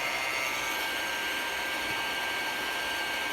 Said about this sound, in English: the dryer helps harden the acrylic so you can do the next coat